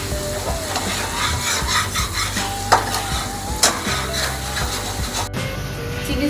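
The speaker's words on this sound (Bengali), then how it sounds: "একটু নেড়ে নেব মশলাগুলো ভালো করে" Spices with pepper and salt stirred in a frying pan while making chilli chicken: continuous sizzle with repeated scraping strokes and a few sharp utensil clicks, close and steady with no talking.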